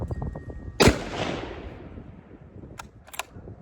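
A single loud rifle shot with factory ammunition cracks sharply near the start and rings out into a decaying echo, followed by a few faint clicks.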